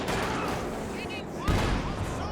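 Tank guns fire in a Company of Heroes 2 match, a heavy boom landing midway through over steady battle din, with game effects layered around it.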